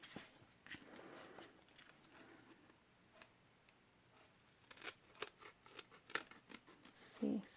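Scissors snip around a paper heart shape, a quiet series of close, crisp cuts in irregular rhythm, with soft handling rustle and a brief voice near the end.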